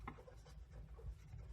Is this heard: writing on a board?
yes